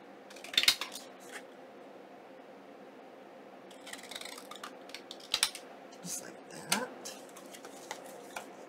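Scissors trim paper for a junk journal envelope, a scatter of quiet close snips and rustles over a faint room hum, the sharpest cuts coming in a few brief clusters.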